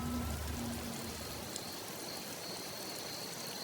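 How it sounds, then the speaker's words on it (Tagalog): A heavy downpour of rain hisses steadily and evenly, a dense wash of falling water with a faint tap or two. It goes on alone, with no voices and no thunder. "Isang malakas lang na buhos ng ulan."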